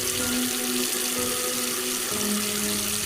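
Water runs steadily from a bathroom tap into a basin, a continuous close hiss and splash with a faint low tonal hum, heard alone with no talking.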